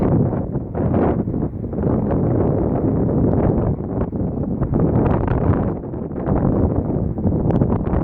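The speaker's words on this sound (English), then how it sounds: "Even the wind." Wind blowing outdoors in a park, loud and continuous, buffeting the microphone with rumbling gusts throughout.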